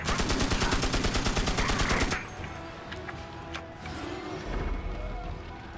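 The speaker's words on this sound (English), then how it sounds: "A machine gun." Rapid machine gun fire in the video game Magicka, a fast regular burst of shots for about two seconds, then it stops and leaves quieter game sounds with a low rumble.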